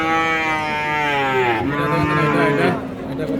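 Cross Friesian cattle at the Ambari cattle market in Dinajpur, a single long, loud, close moo with rich harmonics rising and falling over market background.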